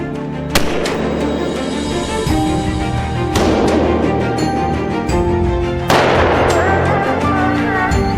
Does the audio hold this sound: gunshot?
yes